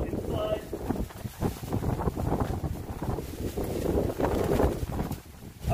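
Strong hurricane wind batters a camping site during a storm, a continuous loud roar buffeting the microphone with gusting surges and rumbling turbulence throughout.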